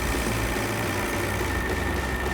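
BMW M550d diesel engine runs steadily, a continuous loud mechanical clatter and hum with a low rumble, heard alone without any voice.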